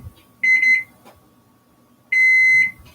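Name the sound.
microwave oven timer beeping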